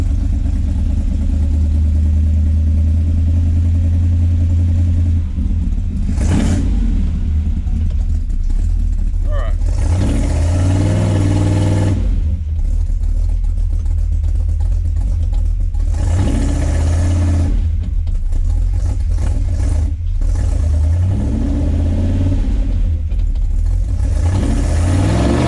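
A car with a Turbo 350 transmission runs up on a lift for a test, its engine droning steadily loud throughout with swells of revving, and a person talks over the noise at times.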